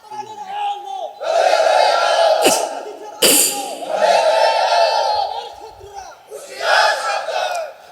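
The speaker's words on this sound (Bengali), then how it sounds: "একটু তাকবীর দেন, তাকবীর দেন" A large crowd at an Islamic sermon gathering in Nageshwari, Kurigram roars out a loud chanted takbir, Allahu Akbar, in several surging waves of massed voices with brief breaks between them.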